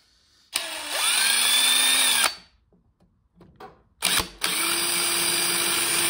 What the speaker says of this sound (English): The minute the hole saw contacted the welder, the drill bit just snapped in half.